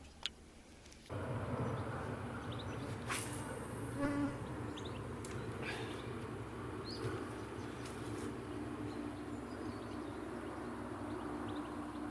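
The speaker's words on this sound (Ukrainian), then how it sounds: "Зате комарі такі, як горобці літають." A steady, high-pitched insect whine hums close by for several seconds, with a few faint chirps and clicks in the background.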